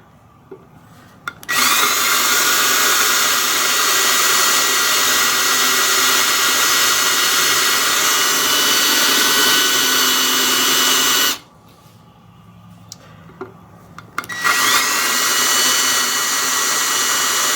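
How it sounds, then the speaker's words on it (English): A power drill whines at high speed in two long, loud bursts drilling into hexagon tile, with a short quiet pause between them and faint clicks. "So I'm going to drill a few holes."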